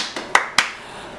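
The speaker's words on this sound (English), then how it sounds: "claps and rounds of applause for Fashion Fair." Three quick hand claps ring out close and crisp in a quiet room, spaced unevenly with a soft first clap and two sharper ones.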